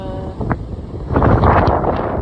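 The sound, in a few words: wind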